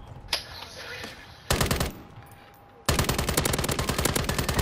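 Rapid automatic gunfire in Call of Duty Warzone on Rebirth Island, a single shot, then a short burst, then a sustained loud stream of close shots after a brief lull.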